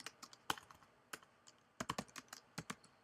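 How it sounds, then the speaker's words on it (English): Keys tapped on a computer keyboard while typing a search query, quiet and close, with irregular bursts of clicks and short pauses and no voices. "what I typically do is just go straight to Google, and like I will type in Google."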